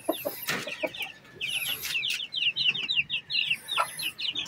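Ten-day-old Brahma chicks peep in a rapid run of high, thin chirps that carries through most of the stretch, with a few lower, fuller clucks near the start.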